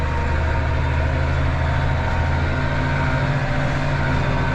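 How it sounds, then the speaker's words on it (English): A steady, muffled engine drones continuously inside the enclosed cab of a Manitou telehandler, with deep low rumble and a broad dull roar, unchanging throughout. "Having this closed also keeps a lot of the exhaust noise out as well."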